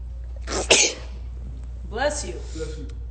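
A person sneezes once, sharp and close, with a second smaller sneeze or throat noise following a second later during a casual indoor livestream.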